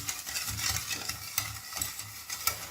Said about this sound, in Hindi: अब मैं चीनी को थोड़ा सा फेंट लेती हूँ